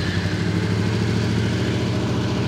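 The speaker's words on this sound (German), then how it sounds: "Ich starte jetzt einmal das Motorrad" Fantic Caballero 700 motorcycle engine running at a steady idle just after starting, a loud, even low-pitched throb with regular firing pulses and no talk.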